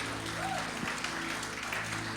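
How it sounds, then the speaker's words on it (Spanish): A church congregation applauds in an even, sustained patter of many hands, moderately loud and steady throughout, with faint voices mixed in. "Le damos un aplauso al Rey de Reyes."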